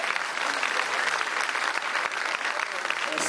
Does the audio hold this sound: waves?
no